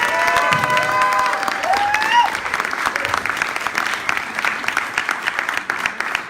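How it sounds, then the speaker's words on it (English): Loud applause from a large crowd at a rally fills the room, steady and sustained, with some cheering and whistles mixed in over the opening seconds. "please give a warm round of applause to Senator Scott Wiener."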